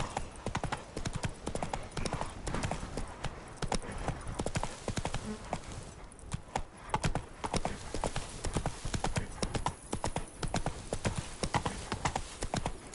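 Roach, the horse in The Witcher 3, gallops with rapid, loud clip-clop hoofbeats in a driving rhythm, close and continuous, with a brief lull midway before the pounding resumes.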